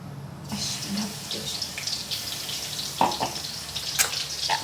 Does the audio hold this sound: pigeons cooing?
no